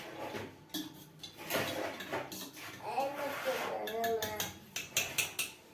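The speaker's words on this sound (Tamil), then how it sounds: "ஏலக்காய் மிக்ஸ் ஆகிறதுனால கொஞ்சம் கலக்கி வச்சுக்கலாம்." Cardamom being stirred into a mixture in a cooking vessel gives quiet, scattered clinks and scrapes of a utensil against the pot, with a voice murmuring faintly in between.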